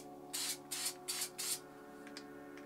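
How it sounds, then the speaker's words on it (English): Dope 400 Classic spray paint can sprayed through a faulty cap: four short hissing bursts in quick succession, close and fairly quiet, then two brief faint spurts. "as you can see, it's spraying all over the place"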